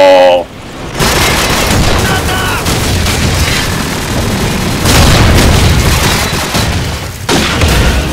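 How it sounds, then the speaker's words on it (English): A grenade blows up in Call of Duty 4 as a loud boom, set in continuous battle noise with gunfire rattling and further bursts around it. A second strong swell arrives toward the middle of the passage. "Oh, my grenade got the final kill."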